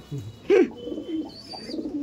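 A pair of domestic pigeons, one female and one male, coo in short throaty bursts close by, with a louder coo in the middle and softer murmuring after.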